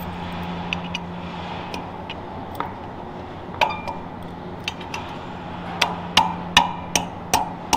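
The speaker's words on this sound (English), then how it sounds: "hitting the rest of the bolt into the wall" Hammer blows driving cut-off bolt stubs into a concrete wall while adjusting freestalls in a cow barn, sharp metallic strikes, sparse at first then a quicker run of louder hits near the end, over a steady low barn hum.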